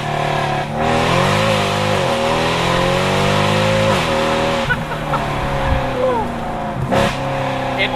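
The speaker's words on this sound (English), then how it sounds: "Downshifts, listen to that." Heard from inside the cabin with the windows down, a Mercedes C63 AMG on a loud exhaust blips and drops through several downshifts, its engine note stepping up and down with sharp crackles and pops.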